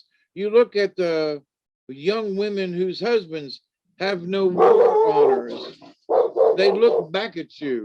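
A dog barks intermittently beneath a man's steady spoken storytelling, the barks partly buried by the voice.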